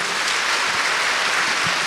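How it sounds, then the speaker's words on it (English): Dense, continuous applause from a large audience at an AI summit talk, loud and even, with no voices breaking through. "So please give Dr. Lisa Su a big applause"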